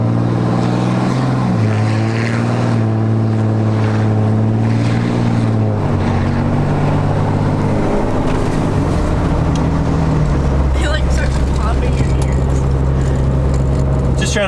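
Exhaust rumble from a 2018 Cummins 6.7 diesel truck fitted with a bigger muffler, a loud, steady low drone that shifts pitch as the engine revs, with wind noise throughout.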